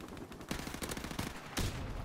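Gunfire in a multiplayer match of Call of Duty: Modern Warfare Remastered, with a sniper rifle in play: several sharp shots crack in separate bursts about half a second apart, loud and close.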